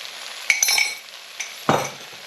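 Spices are stirred into a tikka masala paste in a pan with a spoon, giving a few sharp clinks and scrapes against the metal over a faint sizzle, close by, without talk.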